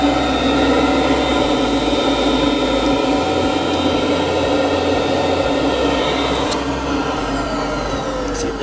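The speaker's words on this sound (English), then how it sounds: "Blower turns on." Blower of a veterinary autovac central vacuum system running, a loud, steady roaring whoosh with a constant mechanical hum, close and unbroken throughout.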